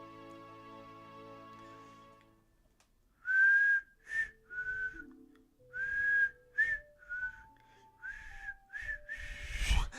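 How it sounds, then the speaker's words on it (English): A person whistles a tune in a series of clear melodic notes, loud and close, sliding at times, after a low musical background fades out. "It's like my whistling parts goes lower and lower the longer I do it."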